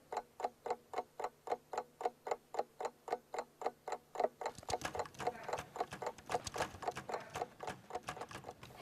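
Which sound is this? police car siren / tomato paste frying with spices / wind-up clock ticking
wind-up clock ticking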